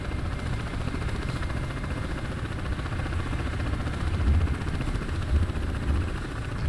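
Ka-50 Black Shark coaxial helicopter in flight in DCS World, a steady loud rotor and turbine drone with low thumping and a constant airframe rumble, no voices.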